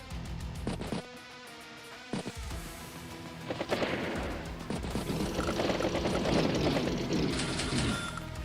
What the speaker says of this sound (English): Does put some rounds into the battlecopter.